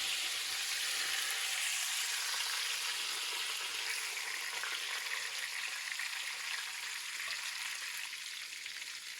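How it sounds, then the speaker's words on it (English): Pork loin searing in a hot pan, a continuous loud hissing sizzle close up, steady throughout and easing slightly at the end, with no talking. "I'm going to let that side sear a little more"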